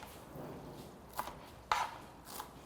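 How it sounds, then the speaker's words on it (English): Knife chopping vegetables on a cutting board for a fried liver, rice and veggies meal, three quick faint chops with one sharper than the others, no talking. "So I'm just going to cut this."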